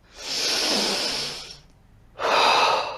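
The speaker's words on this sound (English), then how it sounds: "Deep breath. One more." Two deep breaths during a slow guided exercise session: a long, airy inhale followed after a short pause by a strong exhale, close and clear with no talking.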